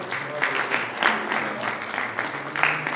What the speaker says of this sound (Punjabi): ਤਾਲੀਆਂ ਵੱਜਦੀਆਂ ਰਹਿਣ।